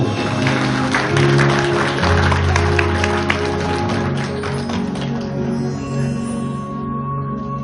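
Wedding guests applauding during a sung wedding performance, dense sustained clapping over music with steady tones underneath, fading toward the end.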